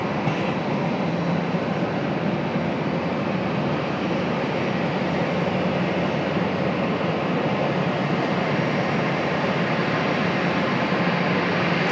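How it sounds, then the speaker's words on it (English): A 25-year-old Delta Boeing 737-8 airliner arriving at Raleigh-Durham airport, a steady, broad engine roar holding at constant loudness for the whole stretch, nearby and with no talking. "Delta 2782 coming in from Boston, Mass. This is a 737-8."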